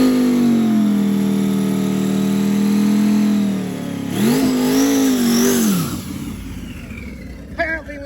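An LS-swapped BMW go-kart making about 1,500 hp holds a loud, steady engine drone, then revs up and falls back with a wavering pitch before fading, with voices nearby.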